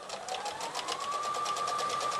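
A sewing machine top stitching a handbag, a fast, even mechanical whirr of rapid needle strokes running continuously and up close.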